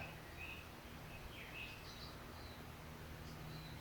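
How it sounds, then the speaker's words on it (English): Birds sing faintly in a quiet rainforest at a national park natural bridge, with sparse high chirps and short warbling phrases scattered over soft steady background noise. "The birds sound nice."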